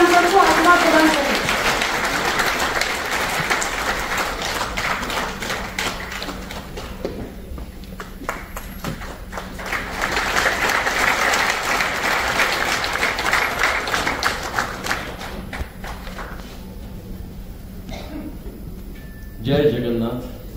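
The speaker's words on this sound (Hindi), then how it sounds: "तो सर के लिए जोरदार तालियां।" An audience at a ceremony applauds a guest with a steady burst of clapping that rises, fades, then swells again, and a voice speaks briefly near the end.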